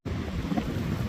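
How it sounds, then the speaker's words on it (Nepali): A gust of wind during snowfall in Labin, Croatia roars as steady, loud microphone buffeting that starts abruptly and holds unbroken for about a second, with no voices. "आयो हावा आयो।"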